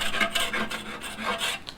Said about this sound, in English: So what you try to do is you try to scrape off